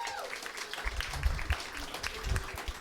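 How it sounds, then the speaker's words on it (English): A comedy club audience claps for a birthday girl, a moderate crowd applause with some whoops and low rumbling thumps, bits of voices mixed in. "how about a good clap for the birthday girl?"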